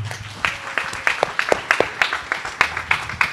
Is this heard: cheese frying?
no